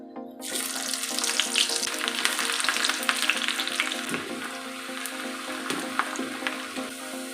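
Onions deep frying in hot oil for raw jackfruit biryani, a dense steady sizzle and crackle that runs loud and close throughout, with faint clinks of utensils and no talking.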